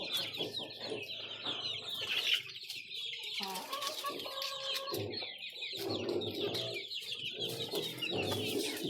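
Chickens and chicks in a backyard coop, with continuous overlapping clucks and high peeping from young birds, a few louder calls and brief wing flaps mixed in, all fairly close.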